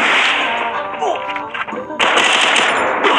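Rapid automatic gunfire rattles through a video game shootout, with loud bursts of shots that break off briefly in the middle and then resume hard and near.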